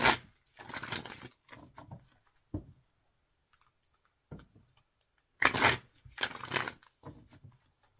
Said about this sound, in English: Not every shuffle is perfect